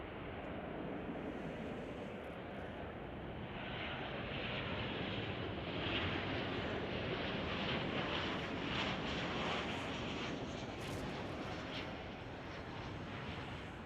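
Airliner jet engines roar at Chicago O'Hare airport, a broad steady rumble heard from a distance with wind noise on the microphone, swelling slightly through the middle and holding for about fourteen seconds.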